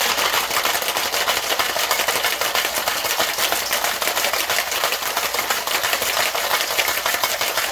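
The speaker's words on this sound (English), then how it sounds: "Now I'm going to shake this one a little bit longer because I want the ice to bounce off the jalapeno" A cocktail shaker packed with ice and jalapeno slices is shaken hard in a fast, even rattling rhythm that continues loud and close for the whole stretch, without talk.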